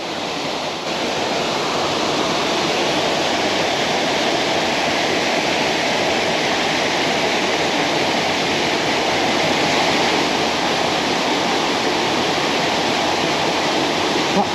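A waterfall roars into a plunge pool with a constant, loud rush of water, unbroken and steady from start to finish, with no voices.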